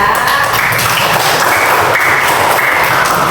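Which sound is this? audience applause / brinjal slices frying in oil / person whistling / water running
audience applause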